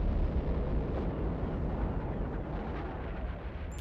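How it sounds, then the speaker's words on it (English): A missile explosion in the Dying Light 2 video game: a dense, heavy roar that fills the whole clip at steady loudness and slowly fades toward the end, with no voices. "Dang, another missile?"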